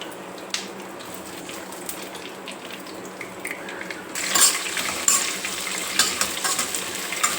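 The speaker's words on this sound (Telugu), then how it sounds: "పచ్చిమిర్చి కొంచెం ఫ్రై అయ్యేదాకా వేయించుకోవాలి." Torn green chillies fry in a pan with other ingredients for ivy gourd chutney, making a soft sizzle that grows louder midway, with spatula scrapes and clinks over it.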